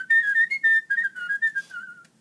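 A person whistles a lively tune on a children's story record, a run of short, close, clear notes in quick rhythm, standing alone without talking.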